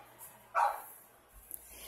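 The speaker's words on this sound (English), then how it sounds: "Excuse the dog barking outside" A single muffled dog bark rings out in a quiet room, distant as if from outside, with faint small noises after.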